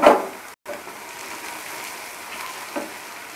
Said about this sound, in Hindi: तो आइए मसाले हम 2 मिनट के लिए भून लेते हैं।